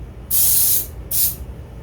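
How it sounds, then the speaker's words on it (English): Degreasing spirit is sprayed onto shotgun barrels during a Stevens double barrel shotgun refurbishment, in two close hissing bursts from an aerosol: one long and one shorter, with a quiet gap between. "now I'm going to have to spray these with the spirit"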